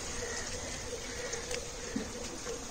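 Water drains from aquaponics grow beds down a pipe into the tank, giving a steady, close, low trickling wash with faint splashy detail throughout and no talk.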